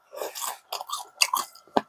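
Crisp crunchy chewing of thin, crispy deep-fried sweet and sour pork, several close bites and crunches in quick irregular succession with short pauses between.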